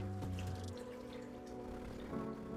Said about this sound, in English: And we're gonna come behind this with 8 cups of water.